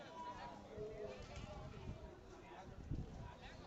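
Lambs bleat among a crowd at a busy Saturday livestock market in Achampet, with several short cries over steady chatter and general market noise.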